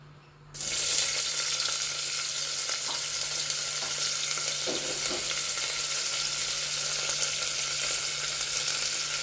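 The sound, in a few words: onions frying in oil for mutton curry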